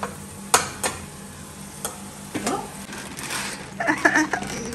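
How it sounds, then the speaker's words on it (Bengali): Maggi noodles stirred in a pan on a home stove, a spoon scraping and clinking against the metal over a soft sizzle, with a few sharp knocks and a busier patch of stirring near the end. "ম্যাগি করছি আজকে"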